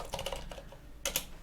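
Quiet typing on a computer keyboard during Linux scripting work, with a quick run of light key clicks, a short pause, then a couple more taps.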